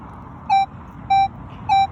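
A Minelab Equinox metal detector fitted with a six-inch coil sounds three identical short, steady target beeps, evenly spaced, standing out over a faint outdoor background hiss.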